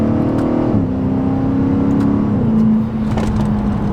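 A Dodge muscle car with a 6.4L naturally aspirated V8 accelerates hard, its loud engine drone dropping in pitch at two quick upshifts before pulling steadily again, heard close from inside the car.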